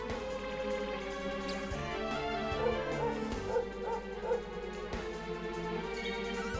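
A dog in the video game Dragon Quest XI barks several short times over looping game music, with a thud or crash mixed in.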